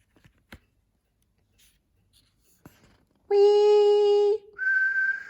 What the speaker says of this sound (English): "Whee!" whistled the whistle.